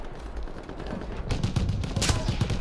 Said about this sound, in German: Ich höre den Schuss immer nur pfeifen